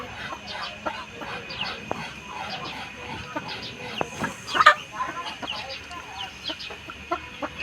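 Roosters of a local breed, four months old, on a small integrated farm in Nawalparasi, Nepal, cluck in repeated short bursts at close range, with a louder call near the middle and people talking quietly.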